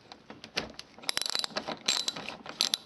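Small clicks and ratcheting ticks as T30 Torx screws are worked loose from the front grille of a Volkswagen Passat, a close, irregular run of light metallic taps and scrapes with no talk.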